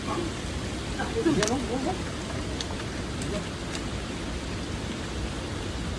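Rain falls steadily outdoors in a flood-prone fishing spot, a constant broadband hiss, while a man briefly calls out a couple of exclamations near the start.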